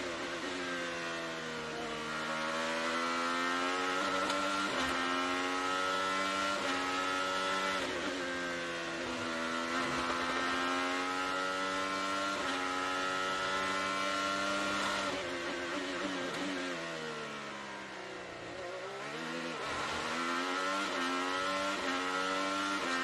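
Kyle Kirkwood's IndyCar race car, heard onboard during practice at the Firestone Grand Prix of Monterey, screams at high revs toward turn 5. The loud engine whine rises and falls with gear changes and a brief dip in revs.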